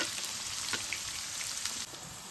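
Onions fry in a pan for an okra and prawn curry, a steady close hiss and crackle like light rain that drops slightly in level near the end.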